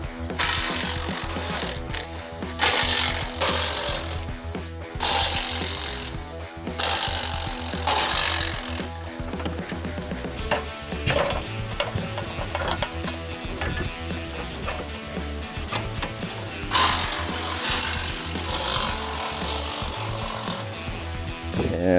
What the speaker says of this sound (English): Number 40 Torx bit, and we're gonna take off these plates.